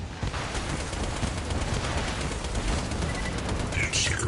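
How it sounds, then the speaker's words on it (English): Missiles firing in a Borderlands 2 battle, a dense unbroken roar of rapid launches and blasts at constant high volume, with a brighter whine near the end. "Firing missiles. Deploying missiles."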